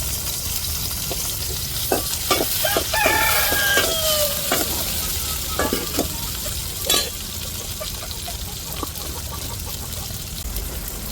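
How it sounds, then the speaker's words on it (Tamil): Chopped chili and tomato sauté in a hot pan for a fenugreek curry, giving a steady sizzle with a few sharp clinks and scrapes of stirring, plus faint tonal calls in the background. "இப்போ மிளகா தக்காளியும் நல்லா வதக்கி விட்டுருவோம்"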